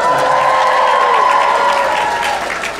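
Convention audience at an anime convention opening ceremony applauding and cheering, a loud, dense wash of clapping with whoops that holds steady and then tapers off slightly toward the end.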